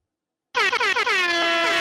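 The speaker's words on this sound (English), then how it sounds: "That's my air horn." An air horn sound effect blares suddenly out of silence, a loud brassy honk stuttering in a few quick bursts before settling into one sustained blast with a slightly falling pitch.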